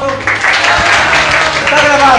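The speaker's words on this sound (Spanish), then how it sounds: "Muy bien, un aplauso." Students and staff at a school event give a round of applause, a dense steady wash of clapping that holds at a loud level throughout, with voices mixed into the crowd noise.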